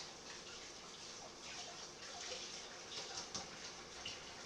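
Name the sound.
rinsing hands under running tap water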